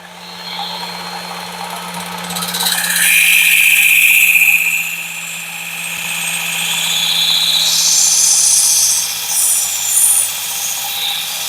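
Work Sharp powered sharpener grinding a knife blade edge, a loud continuous high-pitched whine with a low motor drone beneath, shifting in pitch as the blade passes, then easing and rising again for a second pass.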